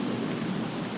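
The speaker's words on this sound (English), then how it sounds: "The rains came hard, but then, as they often do in central Texas, they came harder still." Heavy rain pouring in a central Texas storm, a dense, loud, unbroken wash of noise with a low rumble beneath it, no voices.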